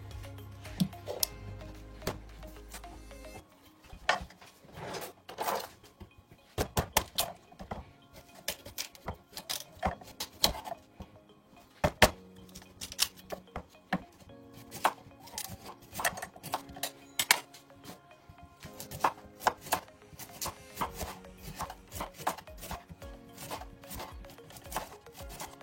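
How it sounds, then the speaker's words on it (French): A knife peeling the skin off large cassava roots, heard as a long series of sharp, close cuts and scrapes in an irregular rhythm, with brief pauses between strokes. "Je vais enlever la peau du manioc."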